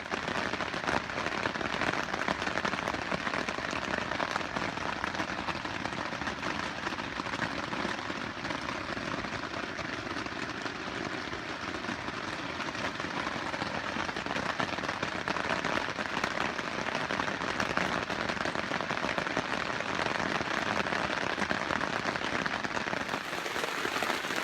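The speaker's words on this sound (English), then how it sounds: "it started to rain. It started coming down pretty heavy," Heavy rain drums steadily on backpacking tents in a wilderness campsite, a dense, even hiss of drops lasting throughout with no pauses and no voices.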